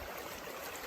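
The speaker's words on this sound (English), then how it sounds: "See how the water's coming down pretty good and fast right there." A swollen creek flows fast through woodland, a brief steady rush and gurgle of water, faint and even, heard alone.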